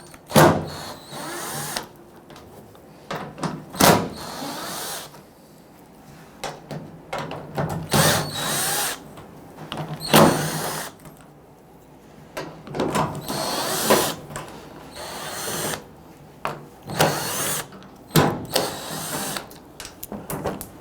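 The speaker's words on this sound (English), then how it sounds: "There are 8 T30 Torx bit screws holding this in place. If you have this here, go ahead and remove those there." A power drill backs out eight T30 Torx screws from the tailgate handle cover of a 2007-2021 Toyota Tundra, in repeated short whirring bursts with brief pauses between them, close and loud.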